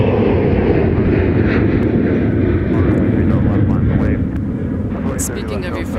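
A fixed-wing airliner takes off from runway 30 left at MSP Airport on a windy day, its engine roar loud, broad and sustained throughout, with faint tonal traces above and no talk over it.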